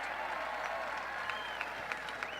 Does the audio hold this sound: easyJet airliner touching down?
no